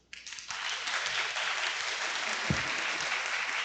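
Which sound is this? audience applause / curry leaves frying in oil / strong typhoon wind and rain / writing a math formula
audience applause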